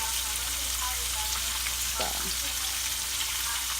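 Six raw meatballs fry on low heat in a pan, giving a soft, steady sizzle with faint crackles throughout, and a brief spoken word near the start.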